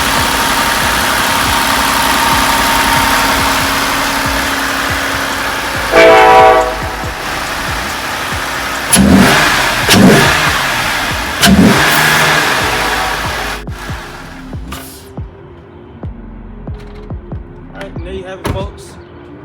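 A 2020 Jeep Grand Cherokee L V6 fitted with an MMX throttle body runs with a steady engine drone and several sharp revs, then the noise drops away near the end.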